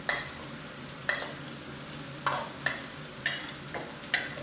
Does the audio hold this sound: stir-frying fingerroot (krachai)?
yes